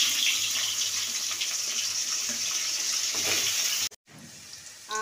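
Potatoes fry in hot oil in a pan in a home kitchen. A close, steady, broad hiss holds throughout, drops out briefly near the end, then returns.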